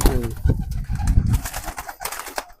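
A prize-winning female racing pigeon at a loft gives close, throaty coos in a quick, uneven series of pulses lasting a couple of seconds.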